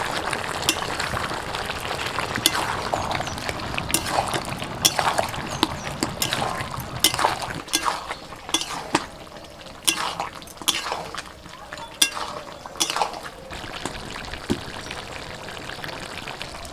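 Red deshi chicken curry being stirred in a pot on the stove, giving repeated clinks and scrapes of a spoon against metal over a steady sizzle, with several sharp taps spread through the stretch.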